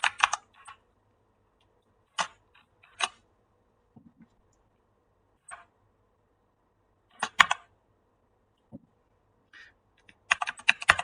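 Sparse, crisp keystrokes on a computer keyboard as the nano command is typed into a Bash shell, coming in small clusters separated by silent pauses, close and clear with no other sound.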